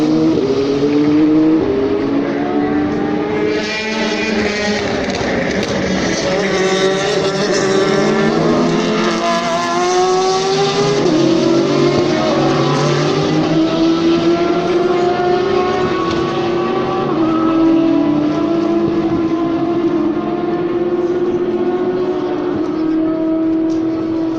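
Race cars roar past at the Le Mans 24 Hours test day, a loud continuous engine drone with rising and falling pitch sweeps as cars pass close, filling the whole stretch without talk.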